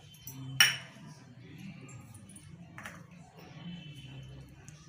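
A spoon serves chole pulao into a dish, one bright metallic clink against the dish followed by softer scraping and scooping, close-up over faint background hum.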